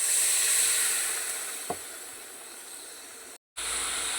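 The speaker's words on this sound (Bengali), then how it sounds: "মশলাটা আমার ফুটে গেছে, আমি পরিমাণ মতো জল দিয়ে দেবো।" Hissing sizzle as water hits cooked spice paste made with salt, turmeric and ground poppy seed in a pan, a steady close hiss that dips briefly near the end.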